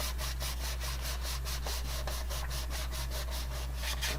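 A fingertip rubs firmly along a freshly glued paper edge on a snowman explosion box craft, making a steady, evenly pulsed scratchy rasp close up, with no speech.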